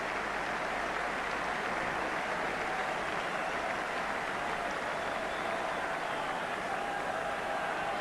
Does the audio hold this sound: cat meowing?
no